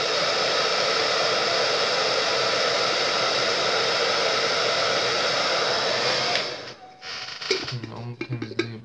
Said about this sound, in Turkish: Fön makinemle fırtacağım.